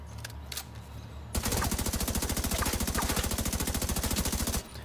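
Rapid automatic gunfire in The Division 2 shoots out beehives, a loud, dense burst of evenly spaced shots running for several seconds after a couple of brief earlier pops.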